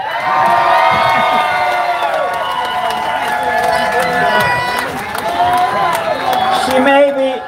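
A crowd at a free speech protest rally in Washington, D.C. cheers, whoops and shouts loudly and continuously throughout, close and dense.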